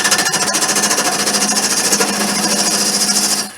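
Wood lathe turning an off-centre goblet blank at slow speed, a loud steady rhythmic chatter of the gouge on unbalanced timber, continuous and close, with no talk.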